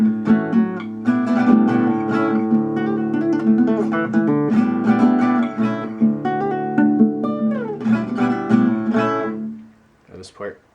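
Acoustic guitar plays a passage, mixing hammer-ons with strummed chords. It is close and full, and the notes fade to quiet plucks near the end.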